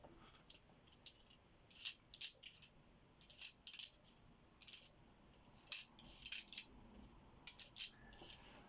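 Small hard Scrabble tiles click and clatter against each other in quiet, irregular bursts, like pieces being pushed around on a table.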